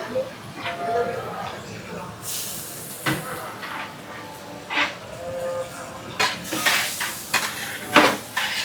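Sabudana khichdi is stirred in a large kadhai during a huge Mahashivratri cooking effort in Nanded, with repeated metallic scrapes and clanks of a ladle against the pan and voices murmuring in the background.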